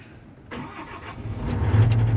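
A small digger engine cranks and catches, rising into a rough, steady idle that grows louder and stays close, with no talking.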